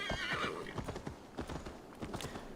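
Horse hooves clip-clop in a steady quick rhythm with a loud neigh at the start, from a horse in the video game Assassin's Creed Valhalla, heard close with no talk.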